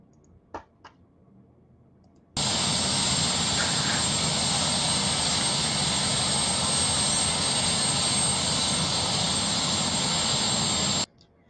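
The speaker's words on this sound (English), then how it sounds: "just Trump off the helicopter into the SUV" A steady, loud roar of a helicopter carrying a president, starting abruptly and holding at an even level for about nine seconds before cutting off.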